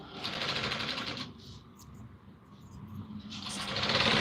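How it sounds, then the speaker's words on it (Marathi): A sewing machine stitches a seam in Patiala salwar fabric, buzzing loudly and close in two bursts with a short quieter gap between them, the motor whirring steadily under the rapid needle clatter. "एक शिलाई मारून घ्यायची आहे या पद्धतीने"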